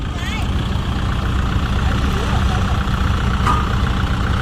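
A loud, steady tractor engine drones and rumbles throughout at close range while pushing a dump truck stuck in mud, with a constant low growl and no pauses.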